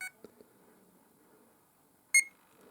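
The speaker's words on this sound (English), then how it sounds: "Now, you heard the higher beep and the LEDs have latched." A single short, bright electronic beep from a Chub Neuron T3 carp-fishing bite alarm switching to tone mode, heard near the end after a faint click and quiet handling noise, close and clear.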